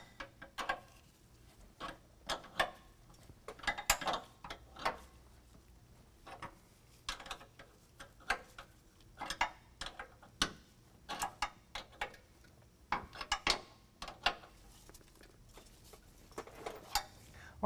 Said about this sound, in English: we're gonna go ahead and snug these all the way down using a 9/16 wrench